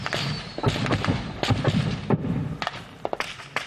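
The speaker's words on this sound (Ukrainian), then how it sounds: "Міни рясно прилітають до українських позицій." Mortar mines exploding near Ukrainian positions at night, a rapid series of dull thumps and sharp cracks of varying loudness, some close and some farther off, with no voices.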